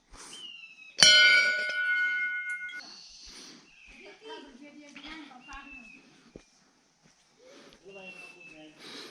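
Many bells hung at Sem Mukhem Nagraja temple in Uttarakhand ring with one loud metallic clang that rings on and fades, then lighter tinkling follows while people talk nearby.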